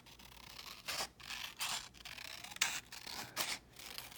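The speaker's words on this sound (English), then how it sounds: "cut that off so that it can come out at that angle" Scissors snip through material while a tiara is being made, a series of about six short, close, crisp cuts spaced evenly with brief pauses, fairly quiet and without talk.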